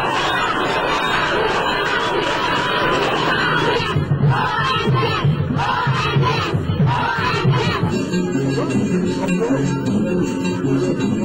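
A dense street crowd in the Cité des Rails roars and shouts in welcome as the presidents of Mali, Senegal and Mauritania and Guinea's prime minister pass along the main avenues, a loud, unbroken wall of cheering and cries.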